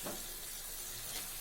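Quail pepper fry cooking in a pan, a soft continuous sizzle and hiss with faint stirring, steady and fairly quiet throughout.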